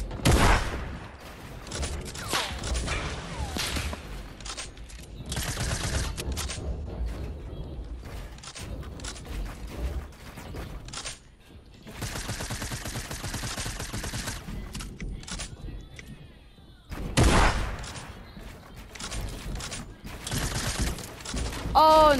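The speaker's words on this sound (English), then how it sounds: "I'm just getting sniped at while I'm in a build battle." Gunfire crackles through a Fortnite build battle, with bursts of shots and loud impacts coming in clusters, separated by quieter stretches of building and movement noise.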